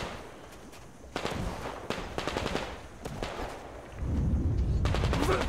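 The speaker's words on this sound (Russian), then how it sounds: "кто-то где-то сзади еще засел там, шмаляет" Enemy gunfire from behind in the shooter game Metro Exodus, sharp cracks and short automatic bursts at close range, growing into heavier, denser firing toward the end.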